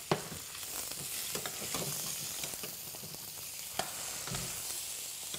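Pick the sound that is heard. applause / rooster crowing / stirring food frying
stirring food frying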